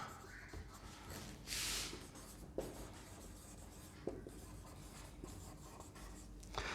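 A pen writes out an answer to an accounting partnership question on paper with steady, faint scratching strokes and a few sharper taps. It is close and quiet, with no speech over it.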